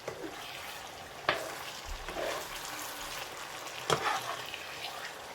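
Nigerian stockfish and merluzza stew is stirred around in a pot, a faint bubbling simmer broken by two sharp scrapes of a spoon on the pot and soft sloshing in between.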